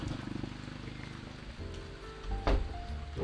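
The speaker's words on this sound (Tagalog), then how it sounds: "Lakas na ng ulan." Rain pours down steadily in a dense patter, with a low mechanical rumble and a few louder splashes near the end.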